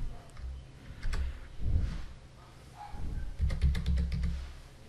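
Close keyboard typing on a computer while entering a Firefox browser setting, with quick uneven clusters of soft key clicks and a few sharper taps, heard alone without talk.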